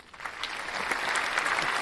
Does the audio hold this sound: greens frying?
no